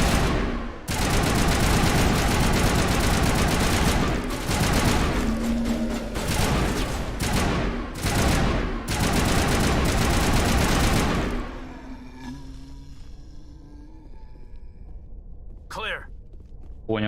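Very loud sustained automatic gunfire from the video game Mass Effect, with rapid bursts and booms for about eleven seconds before it drops to quieter game ambience and a few sharp, isolated sounds.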